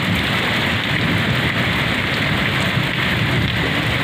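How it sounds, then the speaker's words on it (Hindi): Heavy rain falling in a village in India, a loud, steady, dense hiss of drops that does not let up at any point. "भाई, हर रोज की बारिश दिखाओ है।"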